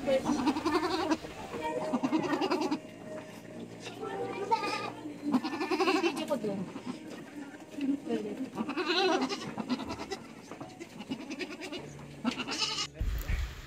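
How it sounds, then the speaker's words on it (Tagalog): A native goat and her newborn kid bleat on a farm during kidding. Repeated close, wavering bleats come in short bursts and overlap one another throughout. "nagpapakain na ulit ako ng aking mga alagang kambing"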